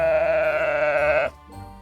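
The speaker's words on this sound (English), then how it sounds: "This is a sheep." A sheep bleats in one long, wavering call that is loud and close, then stops abruptly and leaves a low background hum.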